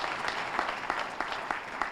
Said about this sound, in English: Let's give our cheerleaders an incredible round of applause.